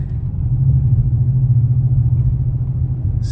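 Steady low rumble of a 5.7 Hemi V8 in a 2011 Dodge Charger out on a short drive, alternator not charging; the engine note swells slightly early on, then holds even and close, with no talking.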